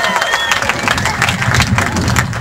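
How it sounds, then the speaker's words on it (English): Crowd at a Get Out And Vote political rally in Mukwonago, Wisconsin, applauding with light cheering; a steady, fairly loud wash of clapping and murmuring voices lasting the whole moment. "Really, that should have gotten more applause"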